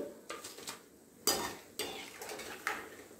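Fried methi mathris are lifted from a pan of hot oil with a metal utensil, making sharp clinks and scrapes against the pan amid a faint sizzle, close and intermittent.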